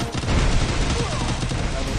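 Dense gunfire in a battle royale video game, with rapid overlapping shots and bursts that fill the whole moment at close, loud range.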